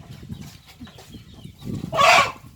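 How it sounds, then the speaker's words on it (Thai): Startled chicken lets out a sudden loud squawk near the end, following a couple of seconds of low background clucking and rustling nearby. "โอ้เสียงไก่ตกใจไปเลย"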